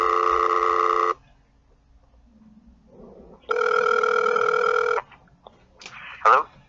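A telephone line rings while a call is being placed, a loud, even electronic tone sounding for about a second, pausing, then sounding again, followed by faint background noise and a short clicking burst.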